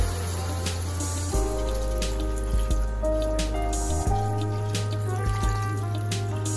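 Water poured into a pot of oxtail with tomato paste for balbacua, a steady close trickle and splash with a low running hum beneath and occasional clinks, no voices.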